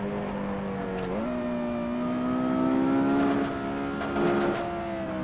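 A Porsche Carrera GT engine revs in a racing video game, rising in a strong, smooth whine with a sudden pitch jump as it shifts, then climbs steadily at high rpm.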